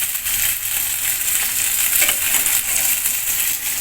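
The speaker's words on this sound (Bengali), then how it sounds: "আমার মাছ ভাজা হয়ে গেছে" Katla fish pieces frying in hot oil in a pan, a dense, steady sizzle with faint crackle running continuously and fairly close, no talking.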